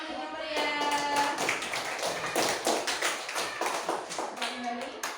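Fourth-grade class applauding in a classroom, a burst of many hands clapping with crisp sharp claps, close and fairly loud, mixed with children's voices.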